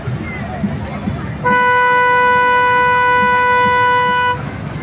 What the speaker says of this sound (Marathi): चला ट्रेन चालू झालेली आहे